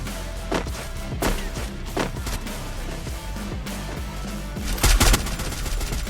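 Gunfire rings out in the shooter game Free Fire: sharp bursts of shots, some rapid and spaced, others clustered, with a loud close volley near the end over ambient in-game noise.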